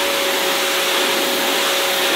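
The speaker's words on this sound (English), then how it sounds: "The compressor motor in this thing's pretty quiet, so that's really nice." A Wholesun pressure washer motor runs loud and close with a constant, steady whining drone and a fixed tone throughout, with no voices.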